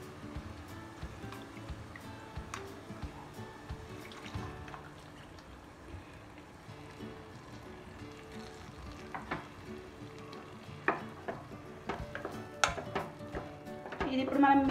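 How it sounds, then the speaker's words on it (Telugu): Palak paneer gravy frying in a pan in a home kitchen, a steady low sizzle and bubbling throughout with occasional clinks of a utensil against the pan toward the end. "ఇది ఇలా ఫ్రై అవుతుంది కదా"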